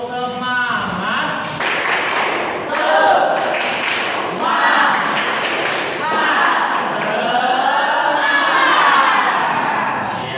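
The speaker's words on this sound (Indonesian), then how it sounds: "tepuk semangat dulu. Tepuk semangat." A school class performs a spirit clap, young voices chanting together in rhythm with sharp group claps and thumps, the beat repeating in short patterned bursts throughout.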